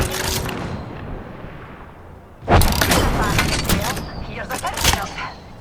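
Gunfire in the Apex Legends shooter, with rapid cracking bursts and booms going off in clusters while players talk excitedly over the shots.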